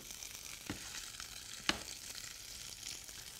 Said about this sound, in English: what I like to do with these is we'll saute those up in a little bit of oil